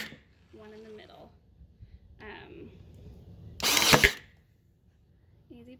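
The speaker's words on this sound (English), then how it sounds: "I use the Ryobi Airstrike brad nailer. I use 1 1/4 inch brad nails" A Ryobi Airstrike cordless brad nailer drives a 1 1/4 inch brad into a wooden farmhouse sign frame, making one loud, sharp burst between stretches of nearby talk.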